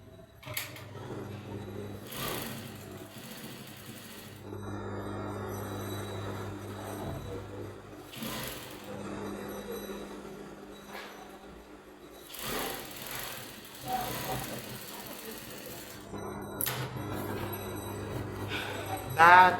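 A sewing machine stitches princess dart bustier padding lining in a steady running hum, pausing briefly now and then before starting again, with a few soft clinks and some faint background talk.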